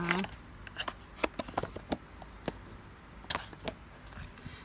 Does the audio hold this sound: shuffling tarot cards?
yes